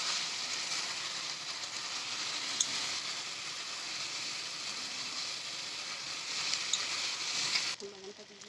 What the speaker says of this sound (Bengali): দিয়ে একটু ভালো করে নাড়াচাড়া দিয়ে নেবে, বলতে পারো কষিয়ে নেবে।